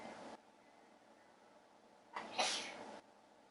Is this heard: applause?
no